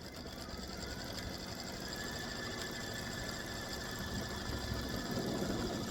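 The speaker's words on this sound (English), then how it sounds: "So my machine is saying this takes 4 minutes to stitch." A computerized quilting machine runs steadily while stitching an edge-to-edge design, giving a continuous, even mechanical hum and rapid rhythmic needle chatter with no pauses and no talk.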